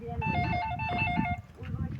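A phone rings with a repeating electronic ringtone melody during a visit to newly bought land, heard close by under overlapping conversation and background voices for about a second and a half.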